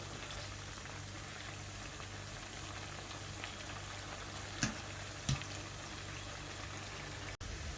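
Okra fries in cooled oil in a pan, giving a faint, steady bubbling sizzle with a couple of brief clinks, and no talking.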